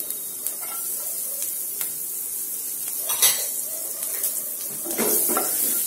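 Finely chopped garlic fries in melted butter in a pan with a soft steady sizzle, punctuated by clinks and scrapes of a utensil against the pan.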